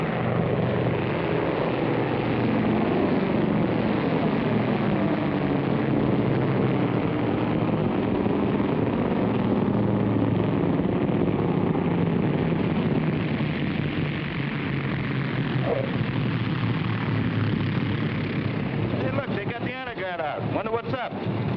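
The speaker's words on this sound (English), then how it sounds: "when plane number 37 touched down on the north runway" A propeller airplane touches down on a runway after a full-flaps approach, its engine drone loud and continuous throughout, with voices sometimes audible beneath it.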